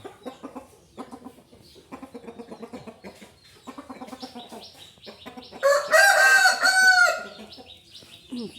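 A prized fighting rooster crows once, loud and close, in a long strained call. It comes after someone talking and is followed by more speech.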